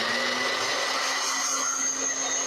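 A hand mixer's blade whirs steadily through fresh-milled buttermilk biscuit dough, a loud, continuous motor drone with a high whine that holds throughout with no talking.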